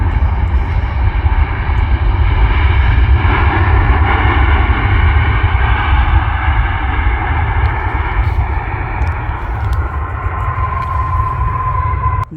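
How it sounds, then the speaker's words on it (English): A Qatar Airways airliner landing at Manchester Airport, heard as a loud sustained roar of jet engines close by that holds steady and fades slightly toward the end. "Can we have a textbook landing, Qatar?"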